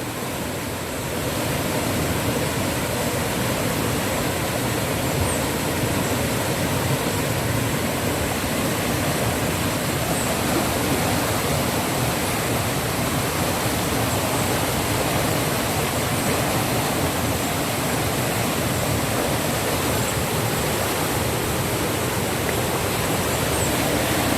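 A noisy river in Jamaica rushes in a steady, dense roar of flowing water, loud and unbroken throughout, with no voices over it.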